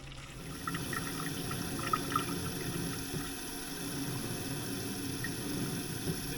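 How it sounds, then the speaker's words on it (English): Windshield washer fluid is poured into a container and water is added, making a steady, continuous sloshing and gurgling pour with small splashes at moderate volume and no talking. "pour the rest into the container and add up to the gallon of water"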